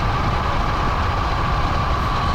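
A 120-volt, 27 kW electric drift trike with a 6-to-1 gear ratio and 360 phase amps accelerates hard on a test run, producing a loud, steady electric motor whine over rushing road and wind noise.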